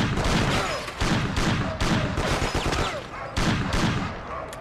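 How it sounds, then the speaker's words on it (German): Sustained automatic gunfire from the Mafia video game, a full magazine emptied in loud, dense bursts with brief gaps between them, no talking over it. "Ich baller den ein komplettes Magazin um die Ohren."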